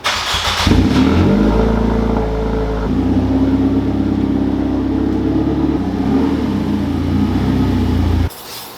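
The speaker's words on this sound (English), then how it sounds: "what I'm going to do first is I'm going to move the car over" A car engine idles close by, rumbling steadily with slight shifts in pitch as the vehicle creeps along, then drops away near the end.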